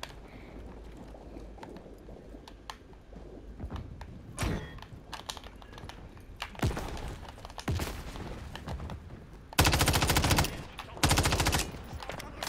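Bursts of automatic gunfire in the first-person shooter Call of Duty Modern Warfare 3, heard in several sharp volleys of differing length, with the last two loud, long bursts near the end standing out clearly.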